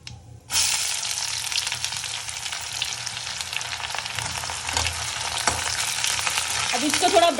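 Onions frying in a pan for a Pahadi dish, a steady loud sizzle that starts abruptly after a brief quiet moment, with scraping stirs and spatula clinks throughout and no talking.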